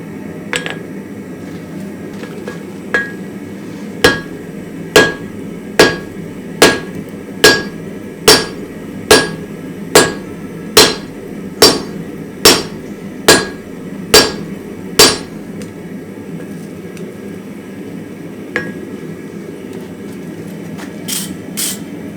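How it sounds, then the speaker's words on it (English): A heavy hammer strikes a 15th-century-style post anvil being built, in a steady series of about fifteen loud, ringing blows, then stops, leaving a low background hum with a few faint clinks. "Working with this big hammer is tiring, folks."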